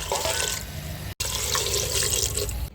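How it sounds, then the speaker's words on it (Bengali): Water from a tap pours steadily into a cooking pot holding potatoes, green olives and green chillies, a continuous close splashing flow with one brief break, no talking. "এবার জল দিয়ে দিচ্ছি"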